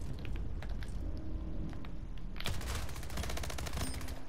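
SMG fire in a portal-based video game, a quiet rattle of shots building into a rapid, dense automatic burst in the second half, with no talking.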